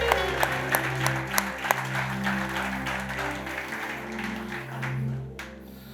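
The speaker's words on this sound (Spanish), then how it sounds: "Dale un aplauso al Señor." Scattered applause in a church service, with a quick burst of clapping at the start, fades under sustained, held musical chords.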